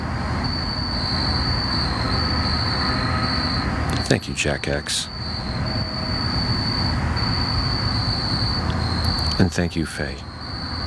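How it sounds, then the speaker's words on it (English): A train rolls by close at hand at night, with a steady rumble, high squealing wheels, a persistent insect-like whine and clanking bursts, while someone talks over it. "there's a train really close to here"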